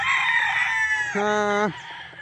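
A gamefarm rooster crows loudly and close, one long drawn-out call, amid other chickens clucking on the farm.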